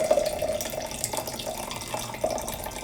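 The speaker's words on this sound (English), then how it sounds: "I'm just really gonna pour this shit right in here" Liquid pours steadily into a container for iced coffee, a continuous watery splashing stream running throughout with no talk.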